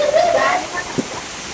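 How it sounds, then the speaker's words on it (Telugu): Heavy rain pours down outside at night, a steady rushing hiss that runs throughout while a voice speaks over the first half and a brief knock sounds near the end. "బయట జోరుగా వాన పడుతుంది"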